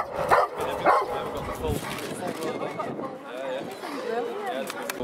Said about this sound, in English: in the van, in the kennel there, there's one having a good bark because I think he's a bit jealous